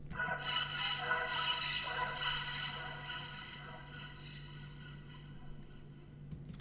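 Accent one-shot from the Antidote kit: a dense, reverberant processed texture with layered tonal bands and a steady low hum, loud at first and fading slightly as the tail rings out, with no voices.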